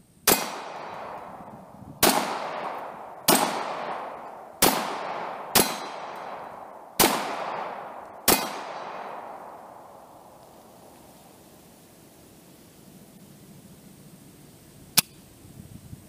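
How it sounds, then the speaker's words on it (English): A 1911 pistol fires seven sharp shots at steel targets in a steady rhythm about a second apart, each with a ringing metallic clang that decays, then one more isolated shot after a long quiet pause. "We're just going to put a couple shots on steel and go for it."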